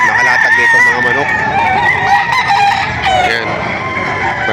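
Chickens and roosters at a livestock auction market in Padre Garcia, Batangas, with overlapping crowing and clucking from many birds close by, loud and continuous amid crowd noise and talking.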